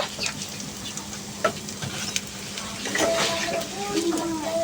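Taro leaf and red lentil fritters frying in hot oil, a steady sizzling hiss with occasional clinks and scrapes of a utensil, while someone talks over it.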